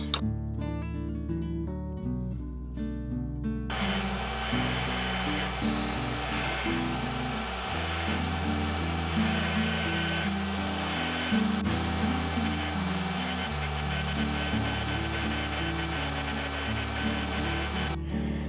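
A power polishing wheel buffs a hidden-tang knife handle of ebony and stabilized curly maple after sanding to 1000 grit, a steady loud motor whine and broadband rushing hiss that runs continuously, its pitch shifting as pressure changes, with no talk.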